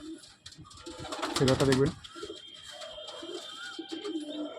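Pigeons coo in a home loft where an old breeding hen has just been set to lay eggs, a few soft rounded calls rising over low background noise while someone talks close by.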